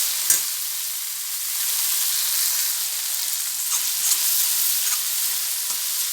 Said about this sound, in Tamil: வெங்காயம் ஓரளவு நல்லா வதங்கி வந்துடுச்சு